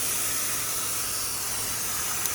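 A pressure washer sprays a steady broadband hiss against a house wall, part of the spray pattern striking the surface while the rest bypasses it, a continuous close rushing with no pauses and no voices.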